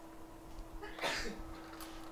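A single sharp sneeze bursts out at close range over a faint steady electrical hum in a quiet repair workshop.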